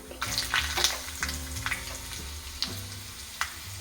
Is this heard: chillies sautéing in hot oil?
yes